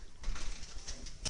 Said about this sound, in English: Wait, I want to look at the bird.